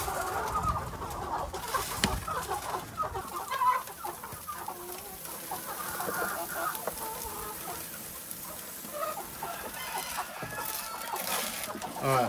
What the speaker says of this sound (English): the chickens are seeing that's something new